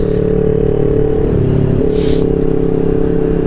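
A Honda PCX scooter-style motorcycle engine runs steadily throughout, a continuous close low drone with a slight change in pitch midway, alone with no talk.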